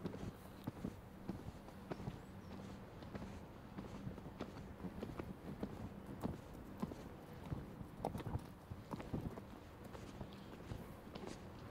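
A horse's hooves clip-clop at a steady walking rhythm, fairly close, during a show-jumping training session outdoors, with constant background noise throughout.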